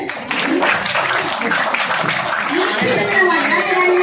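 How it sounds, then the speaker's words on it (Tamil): An audience claps in a dense, lively burst at a Tamil gathering, steady through the stretch while a voice talks over it. "கைதட்டுங்க"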